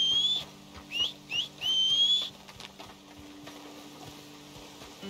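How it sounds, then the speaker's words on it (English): A masked character in the Red Dead video game whistles a short tune of several clear, rising and falling notes over about two seconds, loud against a steady background hum, then fades into quiet ambience. "I have no idea how he's whistling with a mask on like that."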